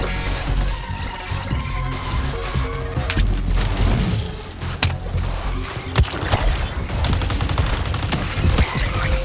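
Loud bursts of automatic gunfire and booming impacts from a battle in the Suicide Squad: Kill the Justice League video game, with rapid volleys, sharp single shots and crashes mixed under game music and effects.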